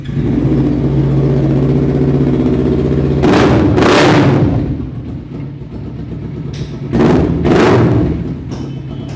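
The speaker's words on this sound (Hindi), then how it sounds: "काफ़ी लाउड आवाज़ है इस बाइक की।" A loud motorcycle with a full-system racing exhaust idles with a deep burble, then revs sharply twice, pauses, and revs hard twice more, each blip rising and falling quickly.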